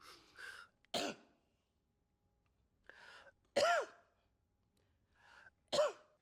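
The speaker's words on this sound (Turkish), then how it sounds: "şimdi üçüncü adımda sessiz bir yerde bir öksürmen gerekiyor" Three separate coughs, each preceded by a short breathy catch, spaced about two and a half seconds apart in a quiet room, close and fairly loud.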